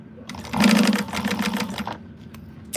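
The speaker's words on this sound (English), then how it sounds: "So we're just stitching this on at her seam allowance that she gives you." A sewing machine runs a seam on a wristlet in one quick, close burst of rapid stitching lasting under two seconds, with a faint hum before and after.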